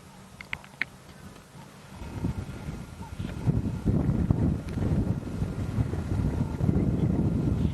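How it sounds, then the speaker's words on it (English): Gentle northeast wind at sunset during an African bushwalk, rushing and buffeting close against the microphone, faint at first and then growing into a steady low roar. "The wind is just gently blowing from the northeast."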